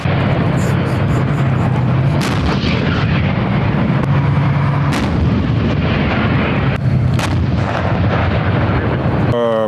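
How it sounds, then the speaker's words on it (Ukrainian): Loud, continuous booming tank cannon fire during mountain training, with heavy rumbling blasts, several sharper reports standing out, close and overwhelming throughout. "І колишні російські, а тепер уже українські танки роблять це залюбки, хоча й стріляють зараз по умовних цілях."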